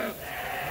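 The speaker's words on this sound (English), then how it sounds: "Feeding time in the new coverall with the ram lambs and the ewes" Sheep, ram lambs and ewes, bleat at feeding time inside a coverall barn, a brief loud overlapping bleat with no voices heard.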